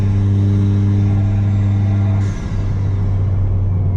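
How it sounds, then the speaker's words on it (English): A turbocharged car held at partial throttle with its stock diverter blow-off valve gives a steady loud engine drone, then a brief airy release hiss and dip in the note before the engine hum resumes. "That's the stock blow-off valve, or the stock diverter valve."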